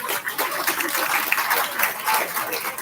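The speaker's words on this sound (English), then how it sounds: "Please help me in congratulating this class with a warm round of applause." A crowd at the Summit County, Utah Fair pig market judging gives a sustained, dense round of applause that fills the livestock arena.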